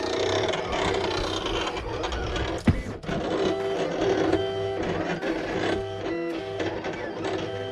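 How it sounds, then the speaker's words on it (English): A Silhouette Cameo 4 Plus cutting machine runs nearby, whirring and clicking mechanically as the carriage shuttles back and forth, with a sharp clack partway through and faint beeping tones. "I feel like the machine is a little bit louder than my Cameo 2"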